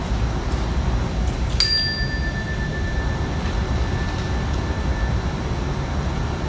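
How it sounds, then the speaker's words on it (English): A mindfulness bell struck once, a bright ding that leaves a clear sustained ring slowly fading over several seconds against a steady low background hum. "I'll ring the bell."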